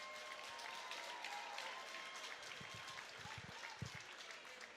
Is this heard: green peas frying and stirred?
no